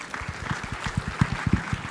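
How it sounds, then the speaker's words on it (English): An audience applauds after a chemical manufacturing industry panel presentation, sparse, distinct claps in a loose rhythm over a murmuring background, fairly close. "I'm going to ask you one more time to give Steve Smith some applause"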